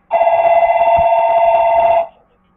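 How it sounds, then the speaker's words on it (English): A telephone rings in a loud, continuous trilling bell burst lasting about two seconds and then stops abruptly, heard alone and close during Star Wars: The Old Republic gameplay. "It's random time for the phone to ring."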